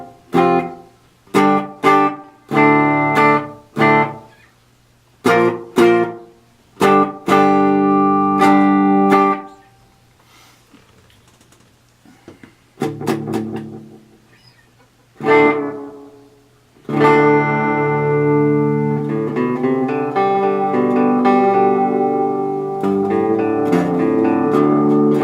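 Plucked electric guitar notes and chords played through a King Dubby delay pedal clone ring out, with their tails smeared into a roomy, echoing wash that lingers after each strum.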